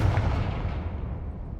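A Confringo spell explodes in a Harry Potter video game, one loud close boom that rumbles and fades out over a second and a half.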